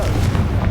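A Confringo spell explodes in Hogwarts Legacy, a loud and dense booming burst that fills the whole short moment, with no voice over it.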